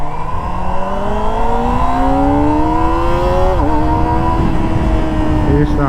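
A 2024 Kawasaki ZX-25R SE motorcycle engine screams loudly at close range, revving steadily higher through the gear with a rising whine, then dipping briefly at a shift before climbing again.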